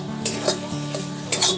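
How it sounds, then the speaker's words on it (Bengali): A spoon stirs a paste of fried onion, garlic and chili into a sizzling pan, giving scraping strokes with a few sharper clinks of metal over a soft sizzle, close and fairly loud, no voices. "পেঁয়াজ, রসুন, লঙ্কা বাটাটা যেটা ভেজেছিলাম এই যে দিয়ে দিলাম বেটে।"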